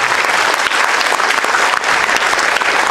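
Steady, dense applause from an audience at a World Environment Day sustainability event, loud and continuous throughout with no break.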